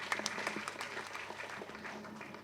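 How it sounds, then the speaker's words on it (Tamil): Audience at a Tamil school film audio launch clapping for a Tamil teacher, a steady, fairly quiet wash of applause with faint voices mixed in. "கைத்தட்டுங்க அவங்க தமிழ் டீச்சர்"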